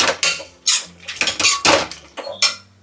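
Metal spoon scraping and clinking against a pan while mushrooms with sauces are mixed for chilli mushroom, in a home kitchen; repeated bursts of stirring and clattering, close and fairly loud, with no talk.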